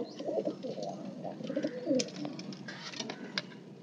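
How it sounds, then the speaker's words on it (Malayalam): Several fancy pigeons coo in a loft, a soft, continuous burbling chorus close by, with faint flutters and small background noises. "എല്ലാം നല്ല അടിപൊളി പ്രാവാണ്."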